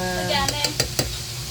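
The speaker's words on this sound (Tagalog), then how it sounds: "haluin natin na haluin and mga 3 minutes more hanggang sa maluto yung isda at yung Chinese kangkong" Sinigang na bangus, milkfish soup with Chinese kangkong, stirred in a cooking pot, a soft bubbling simmer with four quick clanking strokes of the utensil against the pot, close and fairly loud.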